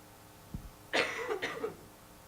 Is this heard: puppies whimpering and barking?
no